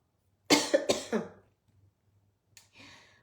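Two sharp, close coughs in quick succession, then a pause and a softer, raspy throat-clearing cough a moment later.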